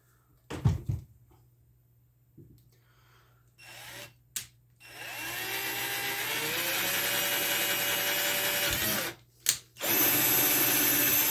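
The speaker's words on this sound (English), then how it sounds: "We're just going to drill through right on that mark." A power drill whirs up and bores steadily through a marked PVC pipe for a homemade drag-racing start light, running continuously for several seconds after a few short clicks and handling knocks, then stopping and briefly restarting.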